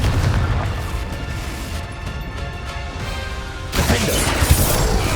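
Confringo blasting spell explosions in the Hogwarts Legacy video game, a dense run of booming crashes and impacts that swells louder near the end, with no talk over it.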